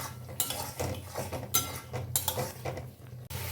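Fried prawns stirred in a pan over a medium flame, with a metal utensil clinking and scraping against the cookware in close, irregular strokes and a soft sizzle underneath.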